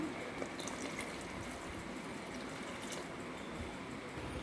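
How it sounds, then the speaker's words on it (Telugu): Water is poured into cooked moong dal to thin it into a soup, a faint, steady trickling pour with no talking. "ఇప్పుడు మనం చారు కన్సిస్టెన్సీకి తగ్గట్టు వాటర్ యాడ్ చేసుకోవాలి"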